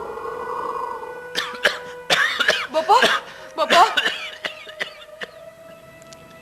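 Several harsh coughs in short bursts over about four seconds, with a voice calling out briefly amid them and a faint steady hum underneath.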